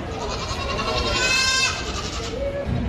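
Goats bleating in a crowded show ring at a national dairy goat show, a drawn-out wavering bleat rising over a murmur of crowd noise and other animals.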